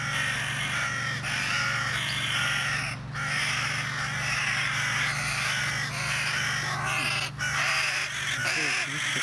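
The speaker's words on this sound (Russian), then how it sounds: "А там две вороны." Carrion crows caw repeatedly in Uzvaras Park in Riga, Latvia, harsh calls scattered through the scene amid outdoor bird chatter and a steady low hum, with people talking nearby.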